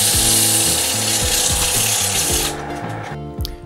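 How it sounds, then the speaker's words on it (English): A woodturned lid is sanded smooth while spinning on a lathe, a loud steady whir with rhythmic mechanical ticking that drops away near the end as the machine slows. "I sand it smooth."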